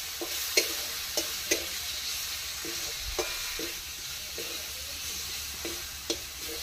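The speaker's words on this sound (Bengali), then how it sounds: "একটু জিরা গুঁড়া, একটু কাশ্মীরি লঙ্কার গুঁড়ো, সবকে একসঙ্গে কষতে থাকবো" Cumin powder and Kashmiri chili powder frying in a pan over a wood fire, a steady low sizzle with occasional soft scrapes of a spatula stirring the spices, no voices.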